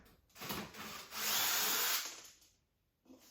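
A small power driver whirs briefly while removing screws from a flea market electronics device, a close, quiet buzzing burst that swells and fades, then a short tap.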